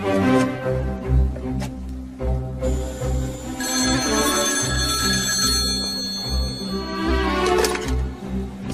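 A telephone rings in a scene from a Punjabi-dubbed comedy film, with a steady ringing tone in the middle of the clip, mixed into dense background music and effects.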